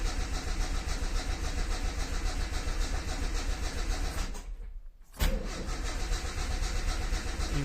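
A car engine being started, a loud rough running drone that cuts out briefly and then catches again, close by with no talk.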